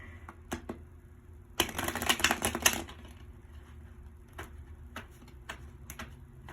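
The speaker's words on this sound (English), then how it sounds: "let's shuffle them up" Tarot cards are shuffled by hand in a quick riffling burst of dense crackling, framed by scattered soft taps and clicks of cards being handled up close, with no talking.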